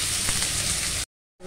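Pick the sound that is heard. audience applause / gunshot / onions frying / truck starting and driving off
onions frying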